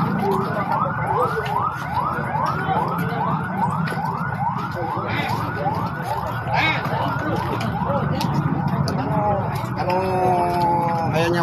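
An ambulance siren wails in a rapid, repeating up-and-down pattern, loud and close, with a different two-tone siren joining near the end, at a fatal container truck and motorcycle crash in Purwakarta.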